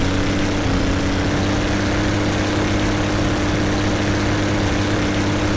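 Ship engine with four podded propellers in the Vehicle Simulator video game, a loud, constant low drone and hum that holds steady throughout, with no talking over it.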